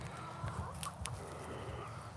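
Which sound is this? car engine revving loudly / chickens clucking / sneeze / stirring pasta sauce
chickens clucking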